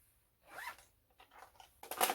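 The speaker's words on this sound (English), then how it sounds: "pop my things back in my little zipper pouch," A small zipper pouch being pulled shut in a few short, scratchy strokes, ending in one quick, louder zip, close to the listener.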